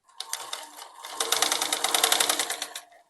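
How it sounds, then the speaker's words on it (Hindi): Close and alone, a sewing machine rattles through a rapid stitching run of about two and a half seconds on a kurti, the whirr slightly uneven before it stops. "मैं मशीन को 5 नंबर में रख के सिलाई लगाऊंगी"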